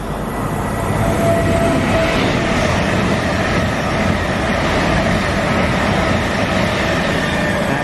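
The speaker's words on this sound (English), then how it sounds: "It's a double Voyager. That's the train that we came in on." An Avanti West Coast double Voyager train at Milton Keynes station, a loud, steady, close rumble of engines and rolling wheels that holds level throughout with no pauses.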